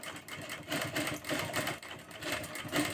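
A sewing machine stitches a square neckline on fabric at close range, running with a steady, rapid mechanical whir that pulses and briefly slows down, with no talk over it.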